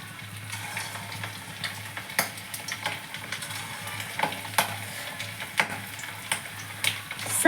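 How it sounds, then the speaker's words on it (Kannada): Chicken keema balls frying in hot oil in a pan, a steady close sizzle with repeated sharp clicks and scrapes from stirring, under a faint low hum. "ಎಣ್ಣೆ ಕಾದ ಮೇಲೆ ಕೈಮಾ ದುಂಡೆನ ಮೇಲೆ ನಾನು ಕೈಮಾ ದುಂಡೆ ಬಿಡ್ತಾಯಿದ್ದೀನಿ"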